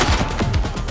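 Rapid gunfire from a firefight in The Precinct police video game, a dense continuous burst of close, loud shots lasting about a second with no clear gaps.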